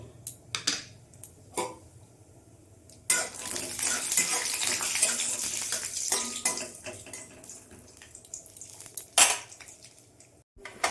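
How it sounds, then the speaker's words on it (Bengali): Nuts dropped into hot mustard oil in a kadai: a few light clinks first, then a burst of loud, busy sizzling with scraping stirs that gradually eases, ending with sharp utensil clatters near the close. "তেলও গরম হয়ে গেছে, আমি বাদামগুলো দিয়ে দেবো।"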